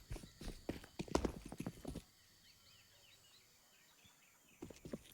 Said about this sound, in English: Brolin's going to start to hear these footsteps now